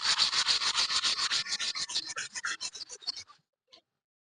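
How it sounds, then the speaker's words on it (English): A steel brush or sandpaper scrubs rust off a metal surface in quick, close back-and-forth strokes, a rasping scratch that repeats rhythmically and fades out, followed by one faint scrape. "So make sure to remove the excess dust with either a steel brush or with sandpaper."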